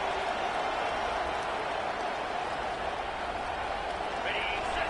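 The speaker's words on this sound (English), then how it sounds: "This crowd bringing the energy and noise early." A football stadium crowd at a Michigan versus Maryland game roars as a constant, broad wash of cheering and noise, steady throughout with no clear peaks.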